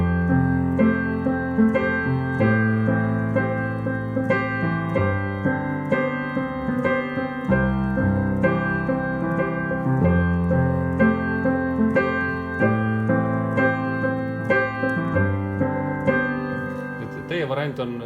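Solo piano plays a flowing low accompaniment pattern with sustained chords, moderately loud and steady, with no voices.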